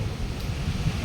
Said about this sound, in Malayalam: തിര ഇങ്ങനെ അടിച്ചുകൊണ്ടിരിക്കുകയാണ്